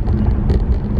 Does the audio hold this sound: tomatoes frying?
no